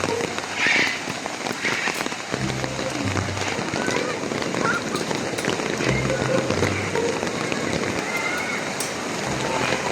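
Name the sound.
rain falling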